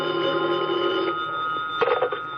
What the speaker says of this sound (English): the phone in the lobby started ringing